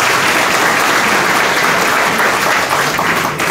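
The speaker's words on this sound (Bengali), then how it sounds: "আমি খুব রিকোয়েস্ট করব একটা হাততালি হোক কফিল এবং তার টিমের জন্য" An audience in a player auction hall breaks into loud, dense applause for a man and his team, a steady sustained wall of clapping with no break.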